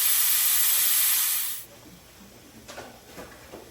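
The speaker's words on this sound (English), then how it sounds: "I'm going to start to put my spoon just to release the pressure" A pressure cooker's release valve, nudged open with a spoon while oxtail stew cooks, lets out a loud, steady steam hiss for over a second, then cuts off, leaving faint clicks and light sputters.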